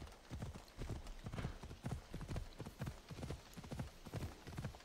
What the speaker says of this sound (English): This horse is everywhere in this game.